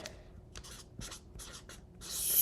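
Handwriting on paper heard up close: a series of short, quiet scratching strokes in irregular bursts, ending in a louder rustle.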